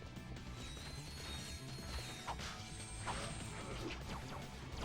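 A bolt crank turning in the video game Ratchet: Gladiator, faint mechanical ratcheting and clanks over a dense, busy game background.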